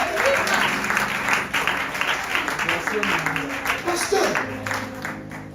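A church congregation applauds steadily for several seconds, a dense continuous clapping that holds throughout, with voices calling out over it.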